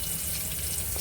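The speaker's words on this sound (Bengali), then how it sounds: "পটল ভাজা হচ্ছে।" Pointed gourd frying in hot oil in a home kitchen gives a steady, dense sizzle throughout, close and even, with no talking.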